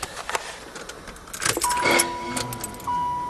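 Pontiac transport van just off a broken-frame repair, with keys jangling and a motor turning over and catching, then idling and driving off close by, a couple of thin whine tones rising over the engine noise.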